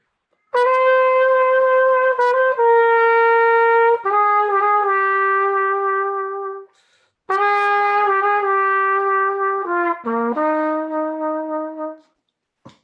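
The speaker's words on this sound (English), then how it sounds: "This is the trumpet without the mute." Open, bright unmuted trumpet playing a slow melodic phrase of sustained notes, loud and close, with a brief pause midway.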